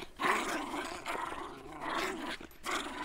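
Several puppies growling and yapping in short rough bursts, fairly close and moderately loud, with brief pauses between outbursts.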